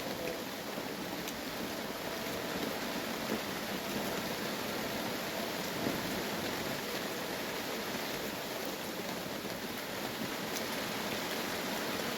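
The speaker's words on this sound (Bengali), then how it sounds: "এত বৃষ্টি হচ্ছে মানে নন স্টপ" Heavy, nonstop rain pours down as a dense, even hiss that never lets up for the whole stretch, steady and fairly loud, with no voices.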